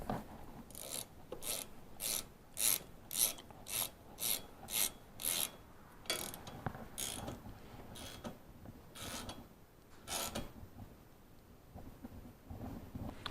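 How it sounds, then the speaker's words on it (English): A ratchet wrench snugs up a bolt on the wiper transmission of a Saab 9-3, giving a series of quick, close rasping clicks in repeated bursts with short pauses between strokes. "I'm just going to snug this up here before I get out my torque wrench."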